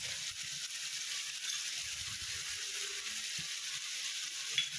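Tomato, chili and soy sauces stirred together in a hot frying pan for soy fried rice, giving a steady, even sizzle with faint scraping of the spoon underneath and no talking.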